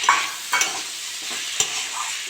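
A spoon stirs spice masala in a pan before tomato goes in for a vegetarian Moglai paratha filling, with a soft sizzle underneath and a few sharp scrapes and clinks against the pan, close, with no talking.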